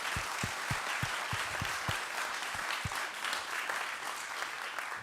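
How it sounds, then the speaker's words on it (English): Conference audience at a DevOps event gives a round of applause, a dense, even wash of clapping across the hall, with a few nearby individual claps ringing out sharply early on. "We just want to give you a massive round of applause for helping us out."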